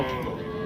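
A buffalo or cow lowing at a buffalo and cattle market, a short, deep, sustained moo heard fairly close at moderate volume.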